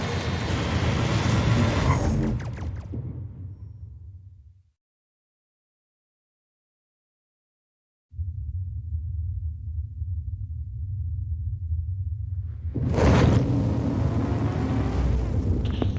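Spaceship skip drive jump in The Outer Worlds video game: a loud, rough engine roar drops into total silence for several seconds, then a low steady hum returns before a big rumbling surge rises again.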